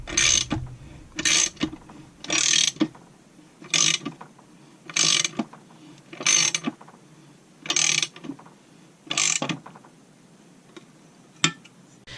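Handle cranked down on a case assembly tool for 394 engine cases, a ratcheting click-clack in about nine evenly spaced bursts, close and crisp with quiet gaps between, no talk.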